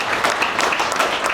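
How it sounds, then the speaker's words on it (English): Audience applause at a live podcast recording, dense steady clapping from a crowd, fairly close and loud for its short duration. "Give a round of applause for just doing that."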